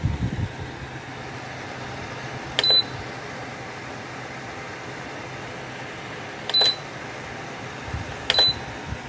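A Lasko digital tower heater running on its high setting gives a steady, even fan whoosh. Three short, sharp electronic beeps sound over it at intervals.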